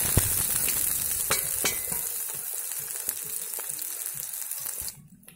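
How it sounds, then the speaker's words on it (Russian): Onions frying in hot oil in a cauldron over an outdoor campfire, a dense bright crackling sizzle with sharp pops, steady and close before it suddenly drops away near the end. "Отправляем сюда лучок, обжариваем."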